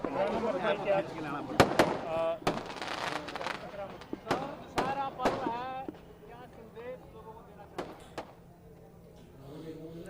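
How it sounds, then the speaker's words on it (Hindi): Fireworks at the Ravana effigy burning on the Red Fort grounds in Delhi crack and pop in sharp bursts, several close together then a few scattered later, heard beneath someone talking over them. "इस आतिशबाजी के साथ देखिए"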